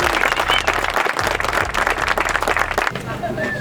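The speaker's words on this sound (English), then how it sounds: "Big round of applause." Spectators at a Tactical Games regional shooting competition applaud first-time competitors, a loud, dense burst of clapping with some crowd noise that tapers off after a few seconds.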